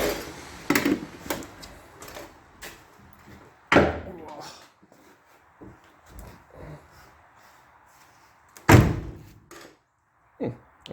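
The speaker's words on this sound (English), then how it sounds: "let's see if the door closes" The door of a 1974 Dodge Monaco under floor-pan and rocker repair is swung shut several times, giving solid metallic thunks with quieter handling and shuffling between, close by in a workshop.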